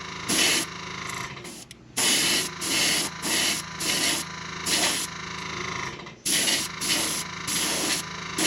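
A white base coat is sprayed onto a Little John fishing lure in short airbrush bursts, a dozen or so sharp hissing blasts in an uneven rhythm, close and loud, separated by brief gaps.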